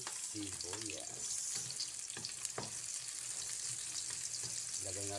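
Beef tripe frying in a pan until golden brown makes a soft, constant sizzle broken by short scraping strokes of a utensil and faint tonal kitchen sounds, heard without talk.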